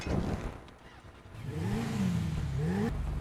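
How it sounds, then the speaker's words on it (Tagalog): A video game motorcycle engine sputters to life and revs up while warming, its pitch rising and falling in a couple of throttle swells, fairly close. "start na natin yung motor para uminit na"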